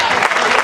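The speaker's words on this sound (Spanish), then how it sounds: "Dale fuerte ese aplauso a Jesucristo en esta hora." A church congregation applauding, a short loud burst of dense clapping.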